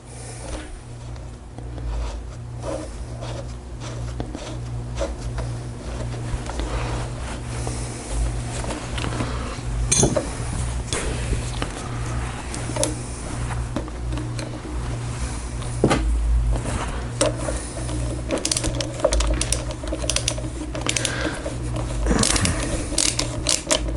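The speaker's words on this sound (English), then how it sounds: "Let me get that nut started." A nut on bolted Evo cases is driven home with a ratchet, giving soft, irregular clicking and scraping up close over a steady low mechanical hum, with no talking.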